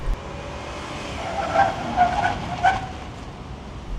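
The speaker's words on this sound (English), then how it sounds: "let's quickly do the brake test" A car braking hard in a brake test, with tires squealing and skidding over a steady road and engine rumble, the screech rising in a few short surges over four seconds.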